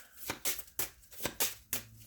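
Oracle deck cards shuffled by hand in close, crisp bursts: five quick riffling swishes, evenly spaced, with no talking.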